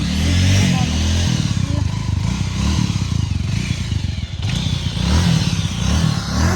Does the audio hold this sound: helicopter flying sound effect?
no